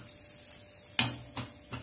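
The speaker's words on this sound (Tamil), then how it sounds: "போட்டு ஒரு வதக்கு வதக்கலாம்" Salt and tamarind sautéed in leftover oil in a wok for fenugreek leaf thokku, with a sharp scrape of the spoon followed by a few softer stirring strokes over a faint sizzle.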